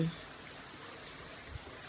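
Huai Luang waterfall, about 50 metres high, in Phu Chong Na Yoi National Park gives a steady, even rush of falling water, soft and somewhat distant, with no clear voices.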